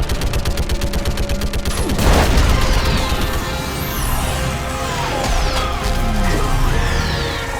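Heavy sci-fi gunfire and a burst of explosions rage through a Mass Effect 3 battle against a live Reaper. A loud boom lands near the two-second mark, and dense weapon fire then continues over a constant rumble of combat.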